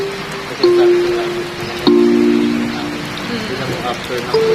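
Rain patters steadily on a surface while tonal voices or sounds rise over it, with a couple of sharp knocks.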